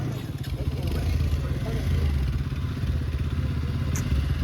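A motorcycle engine, a Bajaj NS 200 or Pulsar 150, runs with a steady low throbbing idle close by, joined by clattering and a few thuds, while voices talk over it.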